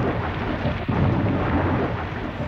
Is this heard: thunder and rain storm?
yes